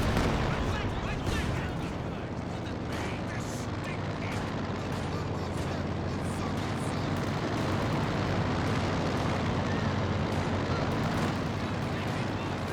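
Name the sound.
Soviet loiter artillery barrage, Company of Heroes 2 video game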